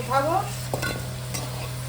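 Potatoes fry in a pan in a short burst of steady sizzle, with a stirring scrape or two close by and no talk.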